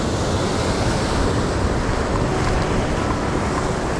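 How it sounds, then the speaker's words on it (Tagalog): Big waves wash against Wawa Port in a constant, loud rush of surf, with wind noise buffeting the microphone throughout and no talking. "Malalaki ang alon."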